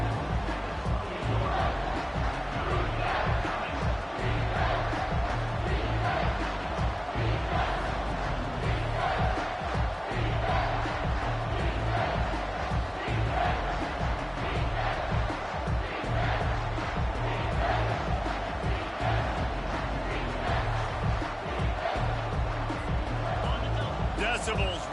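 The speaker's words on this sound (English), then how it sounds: "Decibels rising as the crowd gets behind this defense on third down." A packed stadium crowd in the College Football 25 video game roars steadily through a third-down defensive stand against Arkansas, a dense, loud wall of cheering and yelling that never lets up, with commentary voices running over it.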